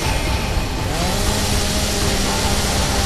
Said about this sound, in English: I hear a chainsaw.